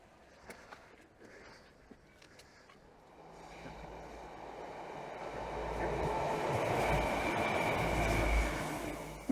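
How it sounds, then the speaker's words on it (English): A train rumbles past the sea wall at Dawlish on the Devon coast. The sound swells from a distant hum into a loud, steady roar that holds through the second half. "Not quite the special train we were hoping for."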